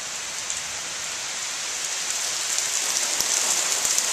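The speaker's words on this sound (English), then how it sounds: "Ah, what a beautiful rain we've got coming down here." Steady rain pours down, a dense hiss of drops on surfaces with a few louder close patters, continuous and fairly loud.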